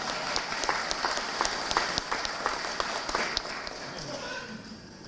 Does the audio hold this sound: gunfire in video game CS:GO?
no